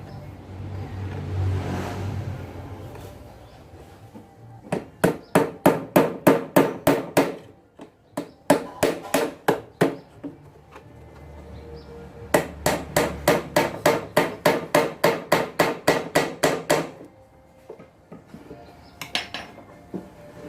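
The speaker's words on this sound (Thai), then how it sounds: "ก็ตอกตรงนี้อีกตัวนึงนะครับ" Bursts of rapid hammer blows on nails in wood while building a wooden watering scoop, sharp and close, several quick runs separated by short pauses.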